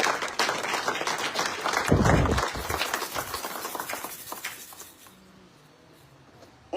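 A church congregation at a Bible seminar bursts into loud, dense applause that swells, then tapers off gradually into quieter scattered clapping.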